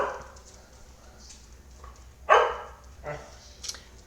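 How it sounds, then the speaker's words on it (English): Dogs barking in short bursts, one sharp loud bark standing out among a few softer ones, with faint background talk. "The dogs had something to say."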